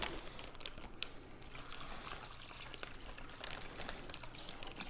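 Non-chlorinated water is poured into a bag for curing herring, a quiet close trickle with faint plastic crinkles and small splashes, soft and fairly steady.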